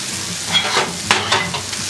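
Mushrooms seasoned with salt and oregano stirred while frying in a pan, a close, loud sizzle with several scraping stirs over a short stretch, no talk.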